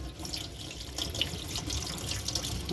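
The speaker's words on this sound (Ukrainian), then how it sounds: "Тут в нас буде текти гаряча вода, наскільки я розумію." Hot water runs steadily from a tap into a sink in a 2002 Swift Challenger motorhome, a close continuous splashing rush with small clinks mixed in.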